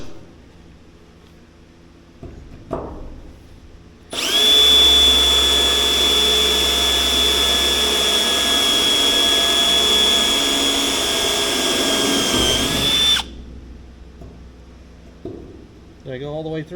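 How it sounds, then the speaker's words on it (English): A power drill whines steadily for about nine seconds at close range, with a high pitched tone, before stopping; quieter clatter and handling sounds come before and after. "Boy, that doesn't want to drill, does it?"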